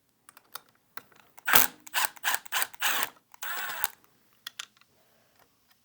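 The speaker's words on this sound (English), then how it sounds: "Next, you will remove these 2 screws here." Two screws removed from the underlay of a Leap office chair arm, heard as close, brief ratcheting and whirring bursts from a driver separated by small clicks and handling taps.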